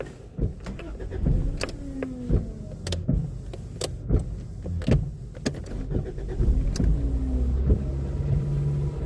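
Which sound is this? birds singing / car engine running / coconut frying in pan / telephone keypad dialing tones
car engine running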